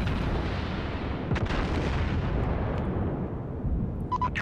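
Heavy main-gun salvos from the battleship Iowa in World of Warships, rendered as a loud, continuous rumble of booming blasts with a sharper report near the middle and no voices.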